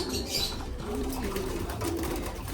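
Racing pigeons cooing close by in a loft, soft repeated low coos over a steady background rustle.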